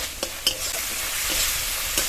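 Chopped capsicum frying over low heat, a loud continuous sizzle broken by several quick scraping stirs of a spatula against the pan.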